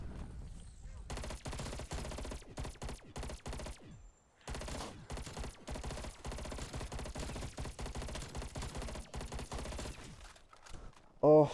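FFAR rifle in Call of Duty zombies, Die Maschine map, fires long sustained automatic bursts of loud rapid gunfire, broken by a brief pause, with game sounds mixed in.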